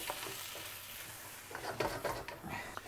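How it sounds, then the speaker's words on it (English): Rogan josh with tomatoes being stirred in a hot pan, a soft scraping stir over steady low sizzling and frying, with a few louder clatters of the utensil against the pan near the end. "So we give that all a stir."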